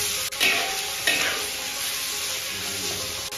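Snapping turtle meat tossed into hot oil with shredded ginger in a wok, giving a loud, dense, continuous sizzle with a couple of stirring scrapes near the start.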